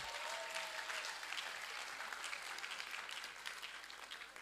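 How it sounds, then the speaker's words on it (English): An audience at a Nigerian law symposium applauds, a dense, even patter of many hands clapping that sounds somewhat distant and soft, continuing steadily before slowly thinning at the end. "Clap for yourselves."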